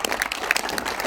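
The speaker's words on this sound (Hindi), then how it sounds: "बड़ी खुशी की जोरदार तालियों से इस बात का स्वागत करिए" A village crowd at a ceremony in Hajipur, Gurugram, applauding in a short, dense burst of clapping.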